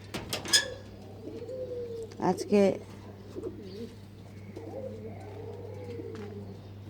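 A brooding pigeon sitting on eggs gives a few soft, low coos close by, with short bursts of cooing and quiet between them, while a person speaks briefly.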